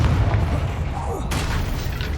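A Confringo fire spell blast from Hogwarts Legacy erupts as a loud, booming burst over dense low rumble, with a sharper crackling flare about halfway through and game ambience running underneath.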